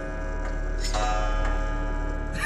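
Clock ticking in the horror video game Neverending Nightmares, a steady series of evenly spaced ticks over a low hum and droning game ambience.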